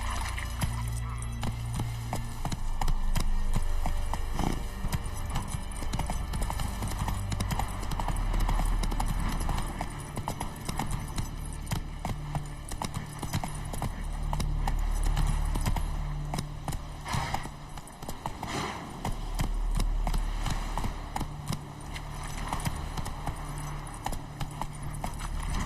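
Hooves of Roach, a horse in a video game, clip-clop in a fast, steady galloping rhythm close by, continuing throughout with brief speech and game sounds.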